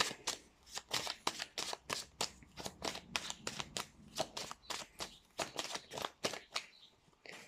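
A deck of cards is shuffled again and again for a tarot-style reading, with rapid riffling bursts in a steady rhythm, close and crisp, with no talking.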